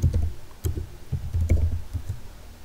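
Keys clatter in short uneven bursts as someone types on a computer keyboard, close and fairly loud, with brief pauses between clusters of clicks.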